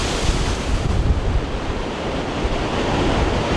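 Waves surge against the jetty at Xghajra, Malta, driven by strong onshore wind, a steady loud broadband roar of surf with continuous wind buffeting on the microphone and no voices.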